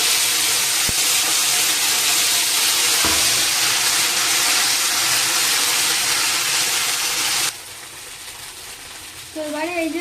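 Pabda fish curry with black cumin being fried and stirred in a pan: a steady loud sizzle and hiss that drops to quieter frying partway through, with a few scraping stirs and a brief faint voice near the end.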